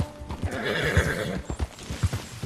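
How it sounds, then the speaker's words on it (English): A horse in the video game Red Dead Redemption 2 gives a loud, close whinny over repeated clip-clop hoofbeats, then keeps stamping and snorting nervously. "My horse is having a small panic attack over something here."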